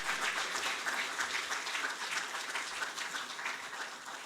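A large audience applauds at a felicitation ceremony for Asian Games medal winners, a steady, even roar of many hands clapping with no breaks, heard from slightly back in a hall.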